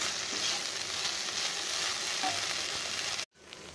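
Okra (ladies finger) fries in a pan with chili powder and salt, a steady close sizzle with stirring scrapes throughout, cutting out briefly near the end.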